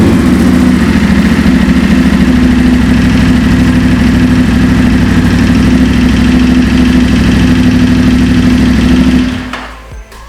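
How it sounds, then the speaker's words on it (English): A Ducati Multistrada 1260 Enduro motorcycle idles steadily after an oil change, a loud, close, even engine rumble that runs without a break and then cuts off abruptly near the end. "I start the bike and let it idle for a little bit."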